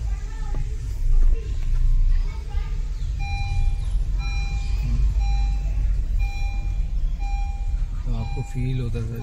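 Reversing beeps from a Honda WR-V car fitted with an aftermarket Android stereo and 360-degree camera, a steady series of short tones at moderate level over engine rumble and ongoing speech.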